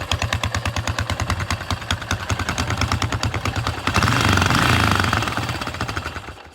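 A 1978 Yamaha TT500 enduro motorcycle's single-cylinder engine running nearby, a loud, steady rapid thumping idle that swells into a rougher, louder rev near the end, heard alone without talk.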